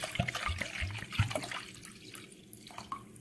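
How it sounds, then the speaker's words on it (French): A litre of milk pours into a cooking pot, a close, bubbly liquid splash that is strongest at first and then eases into a softer, trickling flow. "On va mettre notre litre de lait"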